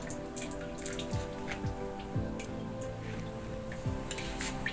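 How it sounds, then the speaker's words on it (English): Used oil draining and dripping from an industrial sewing machine during cleaning, heard as a steady close patter of small drips with a faint mechanical hum beneath and no voices. "So the oil is already draining."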